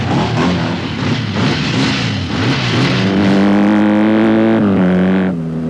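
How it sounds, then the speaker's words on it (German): A BMW off-road motorcycle engine fires up and revs for the start of a 1979 Six Days race, rough, loud bursts rising into sustained climbing revs before easing off near the end. "Eine Minute nur, um das Motorrad ohne fremde Hilfe zu starten und über eine Distanz von 20 Metern"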